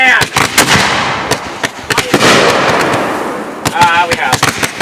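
Firework mortar shells burst at a backyard fireworks show, a rapid series of sharp, loud bangs with crackling trails between them, some very close, and voices shouting and cheering underneath.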